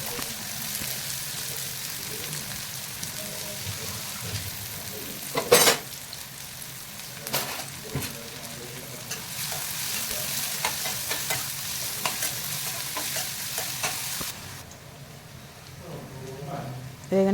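Onions and green chilies frying in oil give a continuous loud sizzle with occasional spoon scrapes and knocks against the pan, the hiss thinning near the end while a voice talks over it.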